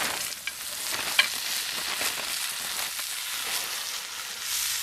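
Celery drops into hot bacon grease with asparagus in a cast iron pot over a backyard fire pit, crackling and sizzling steadily with a few sharp pops and scraping stir sounds.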